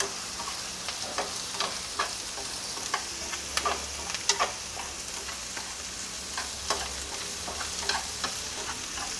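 Mushroom stems sizzle and fry in a pan while being stir-fried, with a steady close sizzle broken by frequent light scrapes and taps of the utensil against the pan, and no talking.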